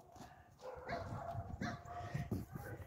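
Dogs bark and yip in short repeated bursts at a modest distance, a few whimpering notes mixed in among the barks.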